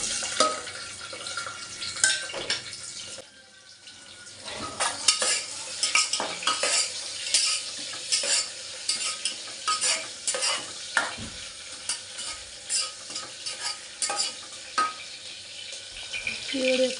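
Onion and rice fry in hot oil with a steady sizzle while a utensil scrapes and stirs against the pan in frequent, irregular clinks, close by.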